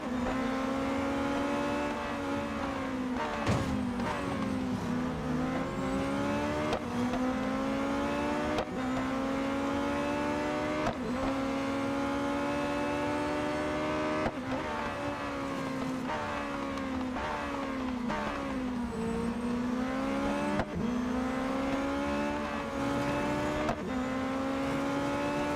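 Race car engines drone loudly and continuously in the Real Racing 3 mobile racing game, their pitch rising and falling with gear shifts, while brief impacts from smashing into other cars break through the engine roar.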